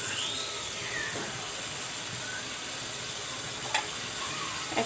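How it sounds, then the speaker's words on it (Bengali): Boiled jackfruit seeds being sautéed in a pan, a steady soft sizzle and hiss with a couple of faint stirring clinks, no voices. "তো আমি কাঁঠালের বিচিগুলো একটু আমি কষিয়ে নিব"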